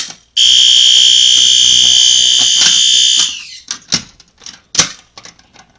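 A loud, continuous electronic fire alarm tone blares for about three seconds during a system test at a pull station, then cuts off, followed by scattered clicks and clunks of handling.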